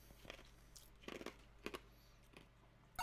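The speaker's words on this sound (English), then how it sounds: "I'm chewing on the ice from my beverage." Ice from a drink being chewed close to the mic, with a few crunchy bites spread irregularly over a few seconds and quiet gaps between them.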